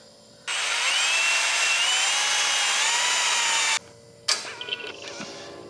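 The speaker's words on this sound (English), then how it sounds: "I'm gonna go ahead and drill the holes now" A power drill bores mounting holes while a part is fitted during car work. It gives one steady, loud whine of about three seconds, then a brief pause and a few softer clicks and knocks.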